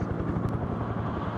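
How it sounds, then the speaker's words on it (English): A helicopter in the Broken Arrow multiplayer video game, a loud, steady rotor thump with a fast, even pulse and a dense engine roar, heard alone without speech. "I'm bringing my helicopter in."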